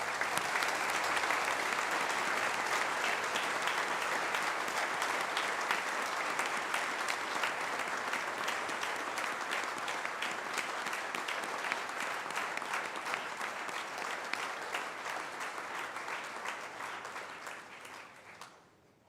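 A large audience claps steadily at a school prefect and senior induction award ceremony, dense sustained applause that holds for many seconds before slowly thinning and fading out at the end, with no talking over it.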